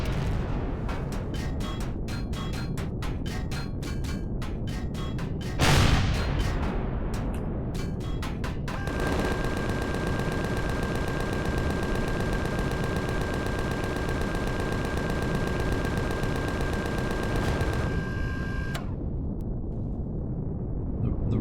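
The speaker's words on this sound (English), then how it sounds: "Yeah, I know, you're firing at me." Rapid bursts of automatic gunfire crackle in Empyrion Galactic Survival, with one heavy boom midway, followed by a long sustained weapon drone, fairly faint and with no talk.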